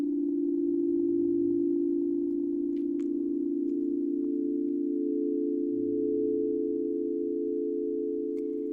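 A steady sustained meditation tone holds a single low pitch throughout, smooth and continuous at moderate loudness with faint ticks in the background and no talk.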